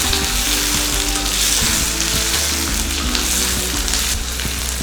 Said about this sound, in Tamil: இந்த வெங்காயம் வதங்கிட்டு இருக்கும் போதே